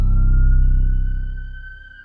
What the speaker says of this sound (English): the sound of sirens from emergency vehicles has never been so prevalent